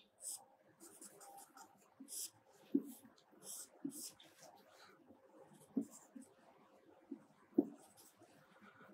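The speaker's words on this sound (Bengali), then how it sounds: "তাহলে আমি একটা সার্কিট ডায়াগ্রাম আঁকছি" Pen strokes sketch a simple resistor circuit diagram on paper, quiet scratchy bursts with a few sharp taps as lines are drawn, faint and close.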